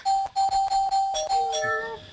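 A bell rings in quick repeated strokes, loud and close, its ringing tone sustaining and shifting pitch as it fades out.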